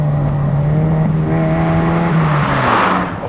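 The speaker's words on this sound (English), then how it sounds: "once you've heard that engine bark for the first time, the throttle response is just exceptional" A small Ford hot hatch engine revs loudly nearby, its pitch rising and holding with a buzzy, rasping tone before easing off.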